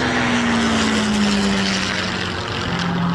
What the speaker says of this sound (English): Oh, Spitfire right over my head.